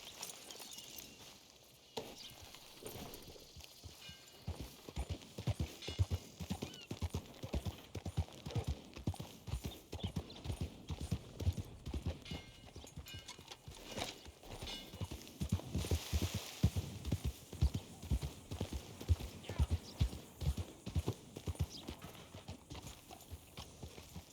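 Steady clip-clop of horse hooves at a walking pace in the video game Red Dead Redemption 2, close and fairly loud, with a brief snort; no talking.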